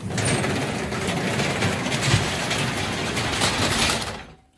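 A heavy door is dragged and slid along, producing a continuous loud scraping and rumbling grind with faint mechanical rattles that runs for several seconds before cutting off abruptly.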